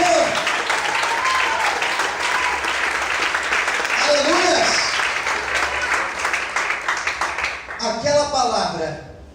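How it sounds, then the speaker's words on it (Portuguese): A church congregation applauds during an evening worship service, dense sustained clapping mixed with cheers and voices, tapering near the end as a singing or exclaiming voice rises over it. "Será que você pode aplaudir o Senhor?"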